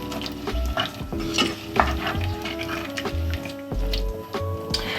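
Chocolate gnocchi made from potato and flour being stirred in a hot pan, with a steady sizzle and frying crackle under soft scraping and clinking of a utensil against the pan, close and continuous.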